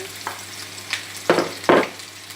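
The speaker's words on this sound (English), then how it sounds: "So you stir fry it around 2 minutes to soften the onion." Sliced onion stir-fries in about two tablespoons of oil in a wok over high heat, a soft steady sizzle broken by a few louder scraping stirs toward the end.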